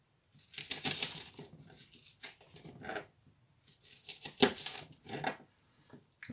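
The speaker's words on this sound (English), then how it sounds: "So what you want to do is just carefully cut all this flesh away" A knife carefully cuts the flesh away from a pepper pod around its seeds, giving quiet, scratchy, crunchy slicing sounds in short irregular bursts with brief pauses.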